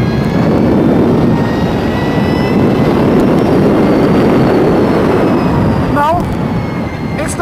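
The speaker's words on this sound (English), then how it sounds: "it does make a nice whoosh sound when you pin the, should I call it a throttle?" An Energica Ego electric superbike at full throttle gives a loud, continuous rushing whoosh that holds steady, with a faint rising whine, then thins out near the end.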